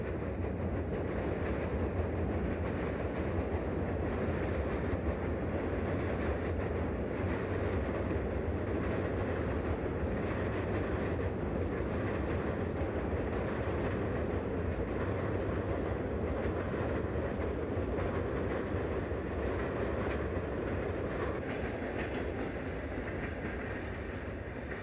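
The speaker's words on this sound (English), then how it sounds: "As with most Soo trains on this line, a caboose brings up the rear." A Soo Line freight train rolls steadily past near the Mississippi River, a continuous heavy rumble with rhythmic wheel clatter over the rails, sustained at an even, fairly loud level throughout.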